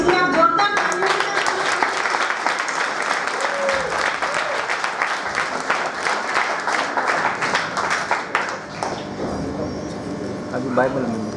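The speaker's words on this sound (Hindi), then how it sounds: "इसलिए आप जोरदार तालियां बजाएं" Audience applause at a Methodist church prize-distribution event in Nanded, a continuous burst of clapping from a crowd with some voices and background noise mixed in, tapering off toward the end.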